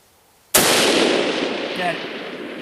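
A single sharp report from a Savage Axis rifle in 22-250 firing 53 grain bullets at long range, loud and sudden, followed by a long rolling echo that decays slowly across the open distance.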